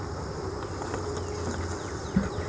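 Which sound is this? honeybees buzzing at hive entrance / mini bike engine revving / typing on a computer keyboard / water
honeybees buzzing at hive entrance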